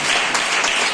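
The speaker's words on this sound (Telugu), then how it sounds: "కూడా చప్పట్లు గట్టిగా" A church congregation at a Sunday service claps loudly together, a dense burst of applause filling the whole brief moment.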